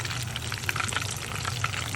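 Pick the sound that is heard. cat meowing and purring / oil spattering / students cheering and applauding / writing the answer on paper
oil spattering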